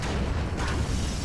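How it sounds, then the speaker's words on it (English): Explosions in the Grand Theft Auto V video game roll together as one loud, continuous booming rumble that fills the short stretch without a break. "Boom, boom, boom. Explosions everywhere."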